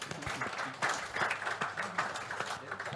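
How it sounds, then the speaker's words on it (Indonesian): An audience at a prosecutors' public dialogue event in Indonesia applauds. The clapping is a faint, dense patter that stays steady for about three seconds, with no voices over it. "Jadi tepuk tangan dulu."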